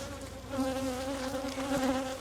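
Honeybees drone steadily at an open hive in an Irish cottage garden, a close, continuous buzz with a clear humming pitch and no talking.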